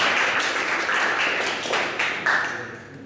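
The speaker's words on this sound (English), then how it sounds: "Give him a round of applause" A seminar audience gives a round of applause, a dense wash of clapping that starts strong, holds for a few seconds, then tapers off with a few scattered claps near the end.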